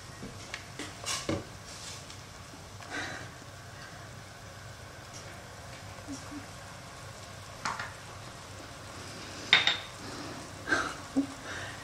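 Cumin powder and spices are stirred in a hot pan, giving a soft, steady sizzle marked by intermittent scrapes and clinks of a utensil against the pan, close and fairly quiet.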